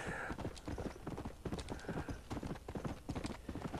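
A ridden horse's hooves clip-clop in a steady, quick galloping rhythm in Red Dead Redemption, loud and continuous, with a brief whinny-like tone mixed in.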